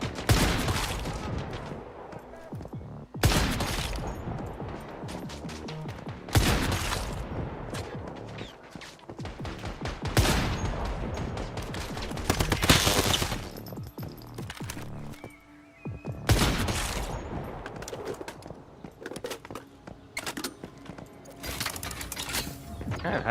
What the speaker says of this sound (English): This sniper rifle's so stupidly good.